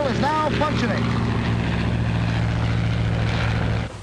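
A propeller airplane drones steadily in flight in an old 1939 film, with a constant low engine hum throughout and a brief burst of voices near the start, fading at the very end.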